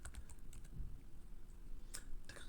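Fingers tap quickly on a computer keyboard in a quiet room, a string of soft, irregular clicks with a short burst of sharper keystrokes near the end.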